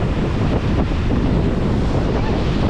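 Strong ocean waves crash and churn at Thenneti Park, Visakhapatnam, a loud continuous surf roar with heavy wind buffeting close to the microphone.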